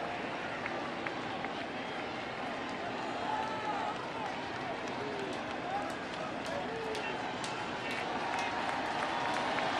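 Baseball stadium crowd at a 2019 World Series game between the Houston Astros and Washington Nationals keeps up a sustained, roaring wash of cheering and noise, with commentators talking over it.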